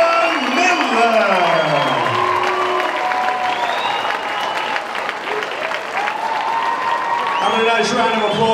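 Crowd applause and cheers at a fight night after a unanimous decision, steady clapping beneath a ring announcer's voice calling out the result and fighters.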